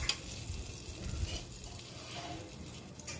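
One spoon of butter and two spoons of ghee heat together in a pan for chicken kalimirch, giving a soft, uneven sizzle with faint stirring scrapes and no voices.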